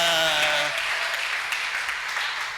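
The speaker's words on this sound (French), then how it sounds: "On ne peut pas applaudir pour Dieu pour ça." A congregation at a church sermon breaks into applause as a speaker's voice tails off at the start, the clapping then carrying on as a steady, moderate wash.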